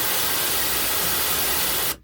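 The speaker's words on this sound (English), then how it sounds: "The first song is the white noise test, which is like essentially just white noise." Steady, loud broadband white noise from a test track used for speaker level matching, a dense uniform hiss that runs unbroken and then cuts off abruptly at the end.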